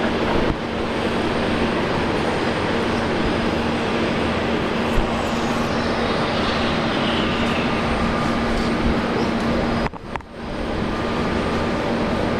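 A Nauru Airlines airliner taxiing at Brisbane Airport: a steady, loud jet engine whine and rumble holds throughout, with a brief dip and a few clunks near the end, heard from outdoors at a distance.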